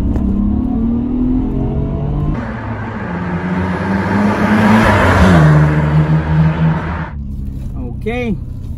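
A 1995 Nissan Skyline GTR R33 drives past a shop, its engine rumbling loud and close as it passes by with rising then falling revs, followed by a brief voice near the end.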